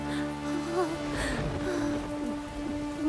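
Rain falling at night, a dense steady hiss of drops on surfaces, fairly loud, with faint tonal background sounds mixed in and no clear speech.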